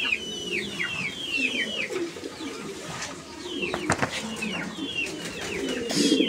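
Pigeons at a pigeon sale coo repeatedly in short rolling calls, several birds close by, with other chicken-like clucks and scattered knocks in a busy market setting.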